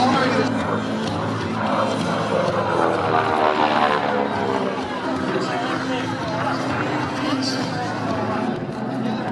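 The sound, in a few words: propeller airplane flying aerobatic roll at airshow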